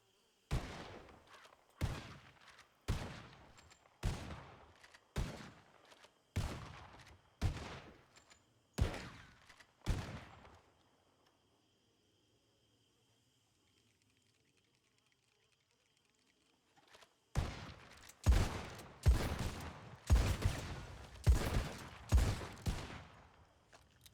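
Gunfire in a Wild West role-play game, a rapid string of sharp gunshots about one every second, then a long quiet gap before another dense burst of shots, loud and close.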